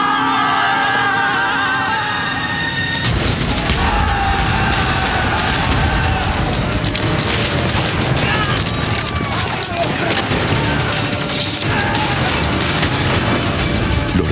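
Dense, continuous battle noise with booming cannon and rattling gunfire, shouted voices in Spanish mixed in throughout, from a school reenactment of a San Martín battle against royalist troops.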